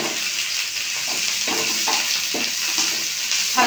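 Chopped green chilli and onion sizzle steadily in hot oil with curry leaves for suji pulao, while a spatula stirs and scrapes the pan in repeated strokes, with no talking.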